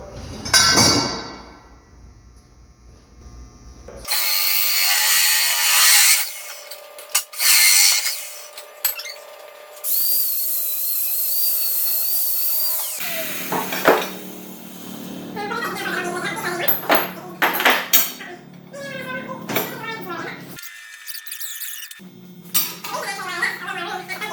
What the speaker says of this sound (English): So I'll put this back in the saw and I'll cut it right about here.